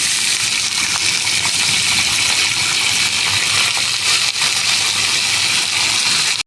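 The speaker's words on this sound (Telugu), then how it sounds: "ఇప్పుడు నీళ్ళల్లో బాగా ఎక్కువ నీళ్ళల్లో కడుక్కోవాలి కరివేపాకు కడిగి" Curry leaves are rinsed in plenty of water for a curry leaf chutney, a loud steady rush and splash of water running throughout with no pauses.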